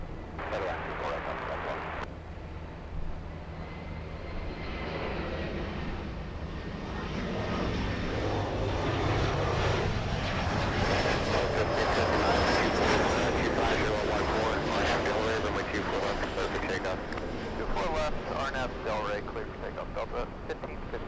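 Delta airliner taking off at LAX, a loud, steady jet engine roar that builds and swells through the middle and holds, with wind buffeting the microphone throughout.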